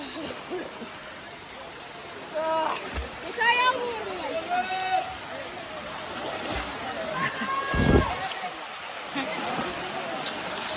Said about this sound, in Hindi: तो अभी हमारे इरफान भाई कूदो